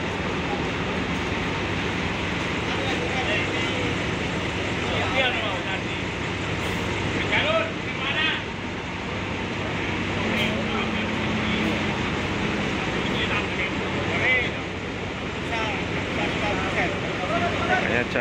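A bus maneuvers to park at Purabaya bus terminal amid a dense, busy bed of diesel engines and traffic rumble, with a person speaking over the steady noise.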